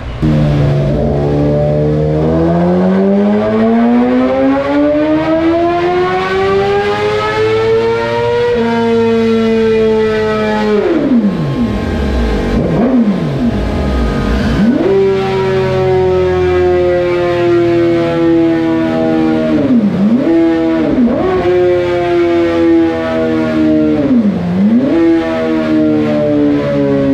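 A 2018 Suzuki GSX-R1000R with an aftermarket exhaust and flashed ECU, running MR12 fuel, roars on a dyno, climbing through the revs in long wailing sweeps broken by sharp dips at each shift, loud and continuous throughout.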